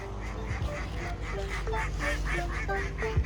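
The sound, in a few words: ducks honking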